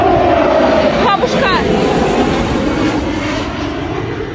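A Su-25 military jet roars over the Sea of Azov, a loud sustained engine rush that fades slightly toward the end, while a frightened child calls out over it.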